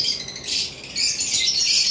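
A pair of lovebirds squawks continuously at close range, giving harsh, high, chattering calls in two overlapping bursts with no pause between them.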